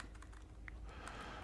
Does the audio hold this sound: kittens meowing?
no